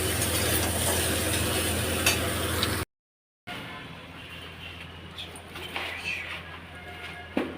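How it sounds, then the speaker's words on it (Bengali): A potato and cauliflower curry is stirred as it cooks in a pan, with a dense scraping sizzle, then a short cut and quieter, intermittent scrapes and clatters. "আমি এখানে জোর কদমে রান্না চলছে আলু ফুলকপির তরকারি"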